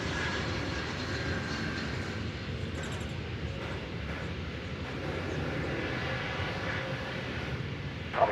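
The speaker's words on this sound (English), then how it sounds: "Here comes a flight from Columbia, Missouri, I believe." An airliner arriving at DFW Airport, a flight from Columbia, Missouri, gives a steady, broad roar that holds at an even level throughout, with no voices.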